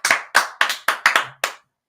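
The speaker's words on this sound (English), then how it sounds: "I want to give a round of applause" Seven sharp, close hand claps from a single person in an uneven rhythm during a live football stream, with silence after the last clap.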